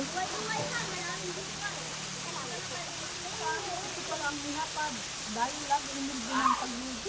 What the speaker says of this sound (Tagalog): Ito pala ang tinatawag na Lagaslas Falls. Running water.